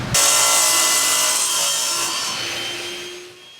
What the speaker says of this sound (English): So we're going to use a table saw again to cut the front piece.